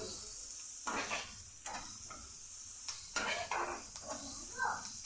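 Vegetables frying in oil in a pan for pasta, a soft sizzle underneath repeated scraping and clinking of a utensil against the pan, with brief speech between the stirs.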